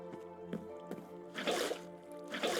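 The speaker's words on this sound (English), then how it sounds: "just gonna take our infinite water source here and just kind of fill in our little pond with as much water that we can for now" Water buckets poured into a small pond in Minecraft, several short liquid splashes and sloshes at regular intervals over a faint background tone.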